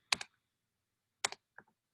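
Short clusters of computer keyboard keystrokes as a university name is typed into a search filter, two quick bursts of crisp clicks with a soft tap after, otherwise silent.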